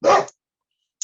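A dog gives one short, loud bark up close, followed by near silence and a brief faint sniff or snort at the end.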